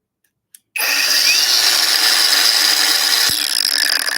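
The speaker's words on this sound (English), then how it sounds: "This is a grinder." A grinder spins up suddenly after a brief click and runs loud and steady at close range, a harsh high whine with no voices.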